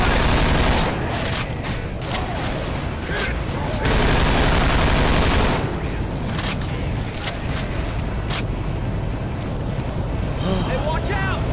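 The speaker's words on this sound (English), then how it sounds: "No, stop shooting!" Heavy gunfire rattles almost nonstop in a Left 4 Dead 2 match, dense bursts and shots loud and close, with players' voices shouting over the din.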